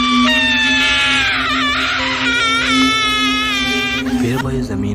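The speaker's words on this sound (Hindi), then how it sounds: "तभी वह जोरों से चिल्लाई" A woman screams loudly and shrilly in a horror scene, a sustained wailing cry with wavering pitch that holds for about four seconds before breaking off, with no other voices over it.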